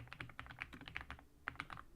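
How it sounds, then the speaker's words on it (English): Quick, uneven bursts of clicking keys on a computer keyboard, close and quiet, with a short pause in the middle, no voices. "I started typing the capital for some reason."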